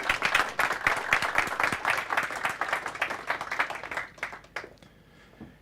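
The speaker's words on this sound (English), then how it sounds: "So a warm welcome and a big applause to Sasha" An audience claps in warm welcome for a speaker at a talk on AI, a dense burst of applause that holds steady for about four seconds, then thins out to a few scattered claps.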